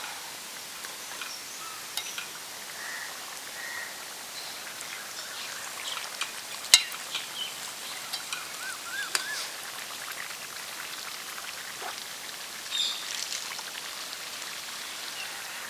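Kerala hotel-style egg curry with coriander leaves simmering in a pan, giving a faint, steady bubbling and popping hiss with a few louder spits scattered through, with no one talking.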